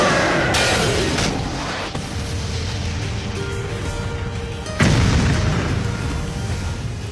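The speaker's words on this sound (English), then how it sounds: "It heated the rainwater so quickly the steam pressure caused an explosion." In an anime battle, steam pressure from rapidly heated rainwater sets off an explosion heard as heavy, rumbling booms that roll on continuously, with a sharp new blast partway through.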